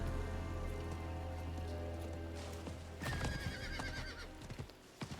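A horse in the Diablo 4 video game clip-clops and gives a loud whinny midway, set against steady rain falling on surfaces and a low ambient game drone.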